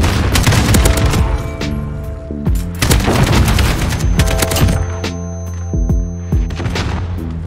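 An AK rifle with maximum recoil in a video game fires long, loud automatic bursts, with shots rattling in quick succession and short gaps between volleys, with no voices over the firing.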